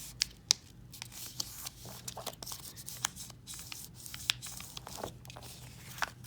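A paper gift bag being folded and creased by hand, with close, quiet crinkles, rustles and a few sharp crisp snaps of paper under a faint steady background.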